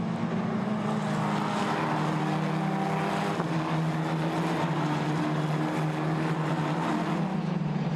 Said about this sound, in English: the race leaders accelerate out of turn 3